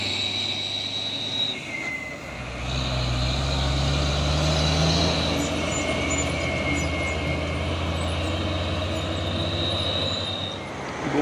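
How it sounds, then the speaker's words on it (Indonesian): Two heavy trailer trucks carrying shipping containers roll past on a road, giving a continuous loud low rumble with whining, squealing tones and shifting engine noise throughout, no voices. "Dua unit truk trailer ini, wis sama-sama membawa apa ini? Peti kemas."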